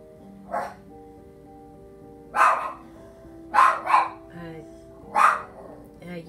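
An upset dog barks in several short bursts, single and doubled woofs, over a steady electronic hum and tonal background, with separate gaps between the barks.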